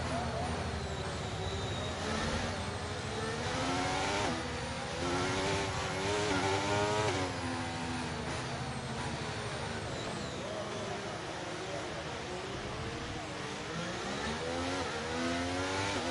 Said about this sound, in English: Watch the RPM on the full start.